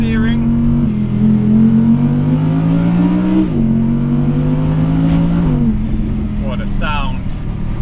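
An Audi R8 GT engine roars loudly and steadily on the Susten Pass, pitch rising through gears with brief dips at shifts, heard from inside the car at evening.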